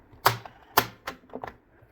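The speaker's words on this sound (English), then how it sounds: "the buttons are a little bit loud" Loud mechanical clicks from the play button of a Sony TCM-939 cassette recorder: two sharp clacks followed by a softer rattling pair, close and dry.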